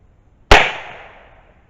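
A percussion cap fired on a muzzle-loading plains pistol to blow out excess oil gives a single sharp, loud crack that trails off in a brief decaying ring, alone in a quiet setting.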